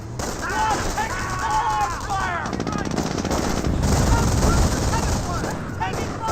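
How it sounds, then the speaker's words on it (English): Rapid bursts of MG42 machine-gun fire in the Company of Heroes strategy game, mixed with other gunfire and battle noise. Commentary runs underneath throughout. "there's that MG42"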